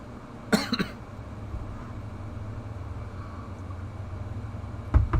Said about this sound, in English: I'm always coughing a lot.